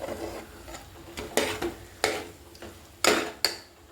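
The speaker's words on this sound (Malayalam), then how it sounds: "ഉപ്പ് കൂടെ ചേർത്ത് നന്നായിട്ട് വഴറ്റിയെടുക്കുക" Onions with salt sautéing in a pan for a traditional Kerala chicken curry, with a low sizzle under repeated scraping strokes of a spoon against the pan at an uneven rhythm, close by.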